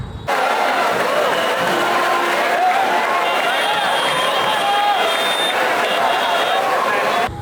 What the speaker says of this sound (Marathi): आता एवढी क्राऊड ना एवढा गर्दी होता